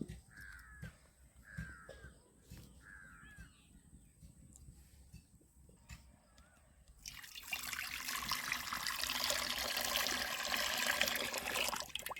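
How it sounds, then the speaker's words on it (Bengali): Water pours steadily into a kadai set on a lit home stove, a loud rushing splash that begins midway and continues to the end, preceded by a few crow caws outdoors over quiet background. "জলটা দিয়ে দিলাম গরম করতে"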